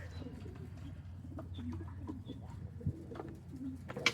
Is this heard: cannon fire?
no